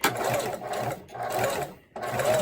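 A domestic sewing machine back-stitches cotton fabric for a face mask, giving a close, steady motor whir in two short bursts with a brief pause between them.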